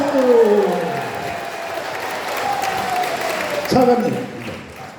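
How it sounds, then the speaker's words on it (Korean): An audience at a press conference applauds, a wash of clapping and crowd noise that rises and fades, with voices and drawn-out vocal sounds running over it. "박수!"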